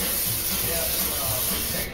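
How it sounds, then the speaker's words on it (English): Nonstick cooking spray misted into an oven-proof baking dish, a steady close hiss lasting nearly two seconds and cutting off at the end. "I'm going to give this a quick little spray with some nonstick,"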